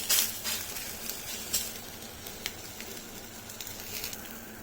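Thick batter for vadappi (dappatti) sizzles on a hot pan brushed with oil, a steady soft hiss with faint crackles and a few brief pops, close and fairly quiet.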